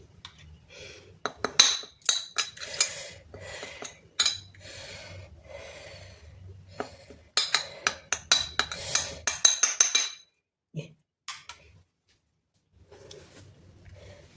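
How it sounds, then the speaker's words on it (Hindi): A spoon spreads green chutney across a plate, giving a run of close, scraping clinks and taps in irregular bursts, with soft breathing between them and a quiet stretch near the end. "स्पून लेते हैं, और ये जो मेरी चटनी है, ये इसको हम थोड़ा सा फैला देते हैं इस प्लेट में"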